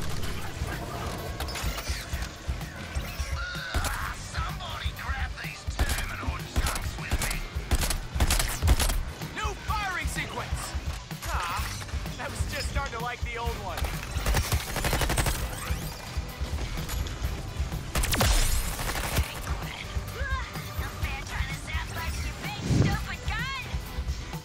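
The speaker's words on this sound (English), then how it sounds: "Bro, I'm getting like gunned down by everywhere." Bursts of rapid gunfire crackle throughout a frantic firefight in the KTJL video game, with mechanical clicks and clatter, while a person talks over the shooting.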